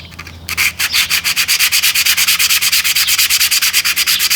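Rhythmic back-and-forth rasping of a sanding block on wood, loud and close, with steady even strokes after a brief start.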